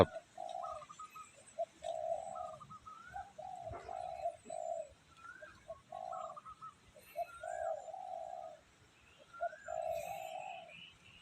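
Spotted doves give steady, repeated cooing phrases, a clear rhythmic series of low hoots with brief pauses, nearly alone against faint outdoor background.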